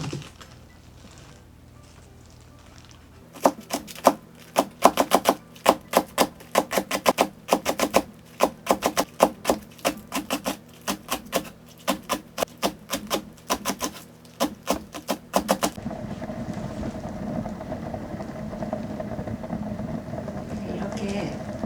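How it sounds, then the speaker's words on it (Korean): A knife chops green onion (daepa) on a cutting board in a home kitchen making chicken gomtang, a fast run of sharp, close, rhythmic taps lasting several seconds, followed by a steady simmering background. "썰어 볼게요"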